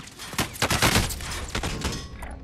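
Rapid gunfire in Warzone on Rebirth Island, a dense run of loud close shots in bursts, thinning toward the end.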